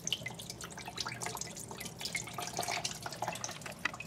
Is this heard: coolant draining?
yes